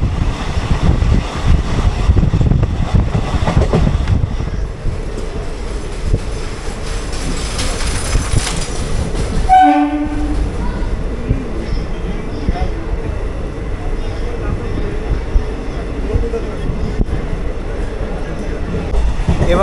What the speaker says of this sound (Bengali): মাতারা এক্সপ্রেস কিন্তু আইসিএফ কোচ, তো তবুও ভালোই টানছে